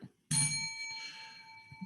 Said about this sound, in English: Love that bell.